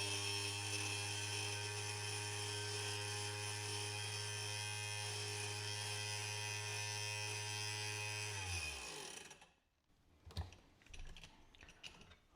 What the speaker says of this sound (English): You hear the motor's picking up, so it's pretty much done cutting there.